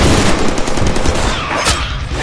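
Sustained machine gun fire in the Deadpool video game, a dense continuous rattle of rapid shots filling the whole stretch, loud and close with booming low end and no talk over it.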